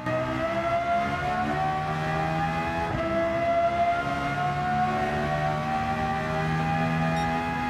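A Lexus LFA V10 engine swapped into an MK5 Toyota Supra in Gran Turismo 7, a steady, high, wailing engine note held at speed, with a short dip around the middle and no talking.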